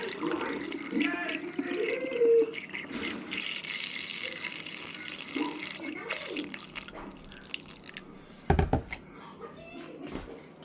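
Green juice poured to fill a container, a soft trickling and gurgling liquid stream with small splashes, close and steady, ending with a sharp clunk.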